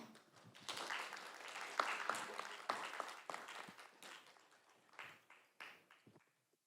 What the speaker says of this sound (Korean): 큰 박수로 청해 보겠습니다